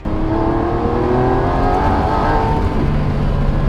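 A Lamborghini Revuelto sports car engine revs loudly and steadily, a rising, sustained roar with no talking over it.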